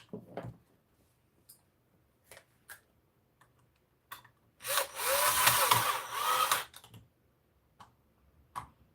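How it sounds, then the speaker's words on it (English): A power drill drives screws into an electrical switch during a home repair, one sustained whirring burst of about two seconds among scattered taps and clicks in a quiet room. "let me just put 2 screws in real quick, and then I'll test this thing real quick"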